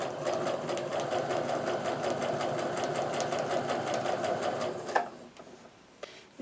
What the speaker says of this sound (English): I'm just going to sew right on that drawn line